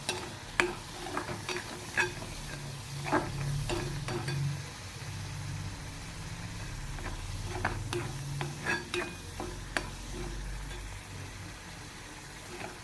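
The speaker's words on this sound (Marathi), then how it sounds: "अशा प्रकारे मसाला आपल्याला छानपैकी तेलात पर परतून घ्यायचा आहे" Spice masala sautéed in oil with fried soybeans in a pan gives a steady low sizzle, with scattered scraping stirs and clinks throughout.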